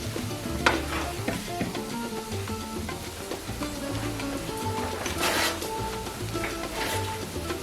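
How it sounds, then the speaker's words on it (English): Vegan duck and pasta frying in a pan give off a soft, steady sizzle. Light scraping and stirring strokes recur throughout, close and fairly quiet, with no speech. "It's frying away."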